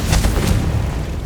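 A Confringo blasting curse bursts in Hogwarts Legacy, a loud, deep booming explosion with a couple of sharp impacts in quick succession, close and rumbling.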